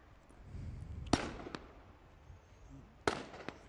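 Sniper rifle shots ring out at a SWAT challenge competition: two sharp, distant cracks about two seconds apart, with a couple of fainter pops, over a low outdoor rumble.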